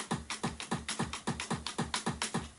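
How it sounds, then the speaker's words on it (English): A kick drum sample fires from a sampler in a quick, even run of about a dozen punchy low thumps, each with a sharp attack and short decay, alone and close. "this is a kick drum"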